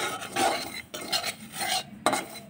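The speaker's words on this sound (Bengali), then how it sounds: "তবু একটু লাড়া দিয়ে নিলাম" Semolina being stirred in a pan: a few scraping, rasping strokes of a utensil against metal, close and distinct, separated by short pauses, with no talking.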